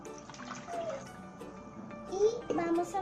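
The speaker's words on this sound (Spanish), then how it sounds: "Vamos a echar el agua." Water pours into a bowl of homemade play dough mixture made with salt and oil, splashing and trickling briefly while people talk over it.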